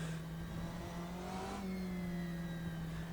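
A race car's engine whines steadily in the rFactor 2 racing sim, with a smooth mid-pitched drone that shifts slightly in pitch, heard faintly and without talk.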